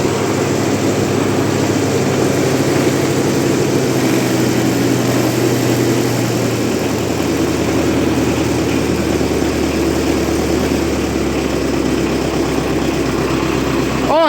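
A 1958 Oliver 550 diesel tractor engine runs steadily and loudly close by, its low rumble dropping in pitch partway through as the throttle eases down; a voice is faintly present.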